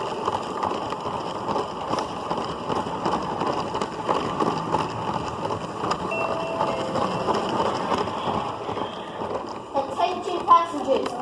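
A LEGO City passenger toy train running along its track, giving a steady light clattering rumble under background voices and music.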